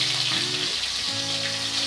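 Crushed garlic cloves frying in oil for a masoor dal with jute leaves, a steady bright sizzle with a faint tonal hum underneath.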